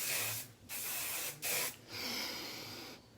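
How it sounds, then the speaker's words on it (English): Hairspray hisses from a can in several close bursts: two short sprays, a very brief third puff, then a longer continuous spray. No one speaks. "Show me a hairspray that you can go and breathe in after you spray it."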